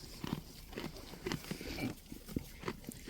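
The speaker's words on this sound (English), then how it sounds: "We love just sitting and listening to the goats munch." Goats munching and chewing food up close, irregular crunchy bites and shuffling sounds at a fairly quiet level, with no talk over them.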